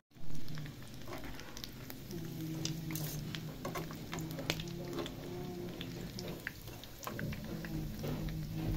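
Bread and potato toasts frying in hot oil, a steady close sizzle and patter with scattered pops and crackles, occasional faint clinks of a utensil.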